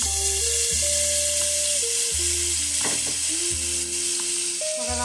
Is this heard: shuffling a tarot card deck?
no